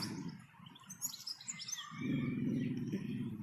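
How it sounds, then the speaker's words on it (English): Birds chirp and tweet outdoors in quick, high, scattered calls at moderate distance, over a low rumbling background that swells midway. "There are birds over there on his territory"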